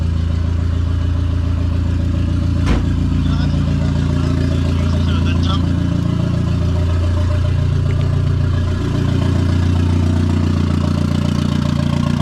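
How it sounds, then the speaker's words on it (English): Turbocharged Mazda Miata with a hood dump idling close up, a steady loud low rumble with slight wavering in pitch and a brief sharp click early on, continuous throughout. "The hood dump really isn't that loud. I mean, that's idle, of course."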